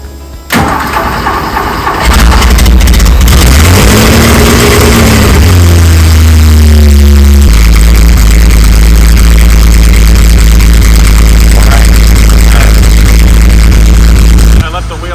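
Car engine cranking and catching after a refill of oil and a new filter, the start rising into a loud, steady idle that runs close and continuous to the end, with a brief transient before the crank.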